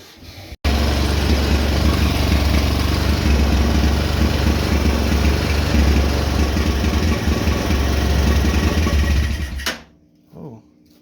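A cheap Chinese quad bike engine starts and runs at a loud, steady, buzzing idle with a heavy low rumble for about nine seconds. Then it cuts out, leaving a few faint noises.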